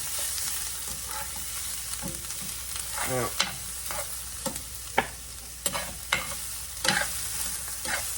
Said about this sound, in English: add a little bit more of my bacon grease. Get them finished frying up there.